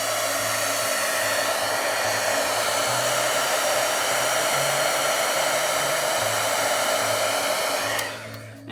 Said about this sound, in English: I'm going to use my heat gun for embossing